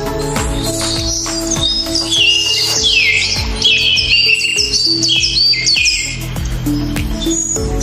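Several pet lovebirds chirp and squawk constantly, shrill overlapping calls close by, with children gathered around the birds and light clatter underneath.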